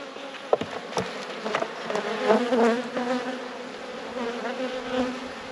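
Honey bees buzz continuously during a spring hive inspection, a dense droning hum with individual insects passing close by, steady and moderately loud with no talking.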